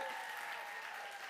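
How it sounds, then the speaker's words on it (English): An audience applauds a guest at an on-stage fireside chat, a steady wash of clapping throughout at even loudness, no voices over it. "Let's give him a big round of applause"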